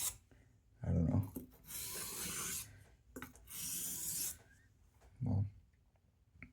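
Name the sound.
straight razor honed on a sharpening stone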